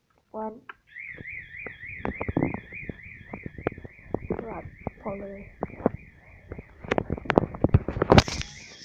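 A fire alarm sounds during a test as a steady, warbling electronic tone that runs throughout, heard from a distance. Clicks and knocks sit under it, and a voice talks briefly near the start.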